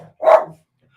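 A single sharp bark from a pet dog named Ray, loud and close in an otherwise quiet room.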